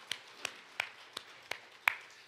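Church congregation claps during a Sunday festival worship service, six sharp, separate claps in a steady rhythm, moderately close, with quiet pauses between them.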